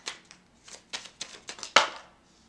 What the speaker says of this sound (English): We got a ton of cards, so I'm just going to shuffle again.